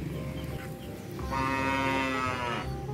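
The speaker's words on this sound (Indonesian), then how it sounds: "Wadidaw, ada ibu sapi warna hitam teman-teman." A black mother cow gives one long, drawn-out moo in the middle, loud and close over a steady background din.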